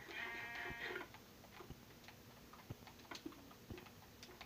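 A sheep bleats in Minecraft, a short wavering bleat at the start followed by scattered ticks and soft game clicks, all faint.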